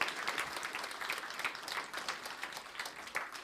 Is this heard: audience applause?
yes